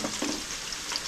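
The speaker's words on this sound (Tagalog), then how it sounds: "Grabe yung pagkulo, oh." Hot oil bubbling vigorously as peanuts fry, a dense close sizzle and crackle that holds steady through a short burst with no voices.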